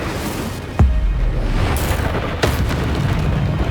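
The Incendio fire spell goes off in Hogwarts Legacy as sharp booming bursts, one at about the first second and another later, over a constant rumbling roar.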